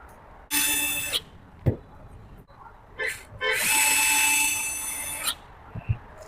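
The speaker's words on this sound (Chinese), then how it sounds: "然后拧上螺丝" A power screwdriver drives screws into the cover of a DIY 300W power station in two bursts, one short and one longer, each with a steady whine, separated by light clicks and handling taps.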